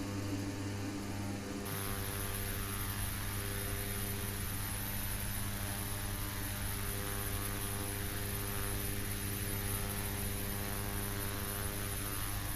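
A steady, droning Embraer 120 Brasilia turboprop hums at a constant pitch inside the Prepar3d flight simulator, a quiet, unbroken engine tone with electrical hum and no voices.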